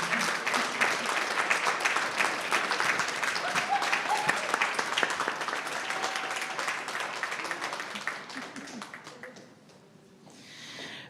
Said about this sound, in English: if we can just have one round of applause for the panelists